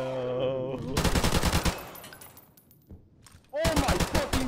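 Assault rifle gunfire in the video game Modern Warfare Remastered: a loud, rapid burst of automatic shots, a quieter lull, then another close, fast volley at the end.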